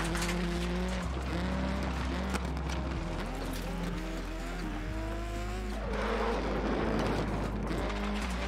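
A Subaru slides across a line, with engine and tire noise rising and falling over about eight seconds amid steady background sound and some voices mixed in.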